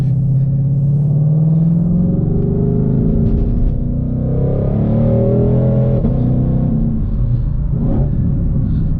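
A 2020 Shelby GT500 rumbles loud and close, revving and accelerating with a steady heavy engine drone, a few brief exhaust pops cracking near the end.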